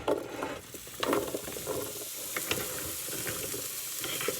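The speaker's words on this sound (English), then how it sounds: "put some oil in here and let that warm up for a minute, and then put my veggies in" Summer vegetables tossed into hot oil in a stir-fry pan, crackling and sizzling steadily with brief louder bursts of stirring near the start, close and fairly quiet.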